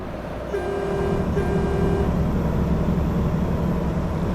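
A loud, steady truck horn blast in the game American Truck Simulator, with a deep droning tone, begins after a half-second of engine rumble and holds to the end.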